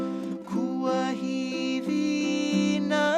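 Ukulele strummed and picked through a song at a workshop, bright sustained chords changing every second or so, close and clear with no voices.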